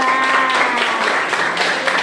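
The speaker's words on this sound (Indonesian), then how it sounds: "kita beri tepuk tangan untuk teman-teman yang sudah menjawab soal nomor 2" Classroom of students applauding classmates who answered a question, a steady wash of many hands clapping for about two seconds, fairly loud and close, with faint voices underneath.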